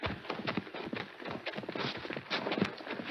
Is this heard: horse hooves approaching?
yes